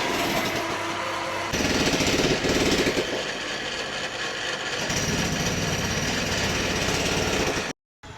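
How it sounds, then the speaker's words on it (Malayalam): Two motors run at a well-digging site, a loud continuous mechanical clatter and drone with a harsh rattling texture, close and steady, briefly cutting out near the end, with no talk. "2 മോട്ടർ വെച്ചിട്ടാണ് പണി നടക്കുന്നത്"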